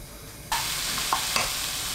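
Bellflower root (doraji) hits a hot pan over high heat, bursting into a sudden loud hiss that holds steady with a couple of small crackles and stir sounds.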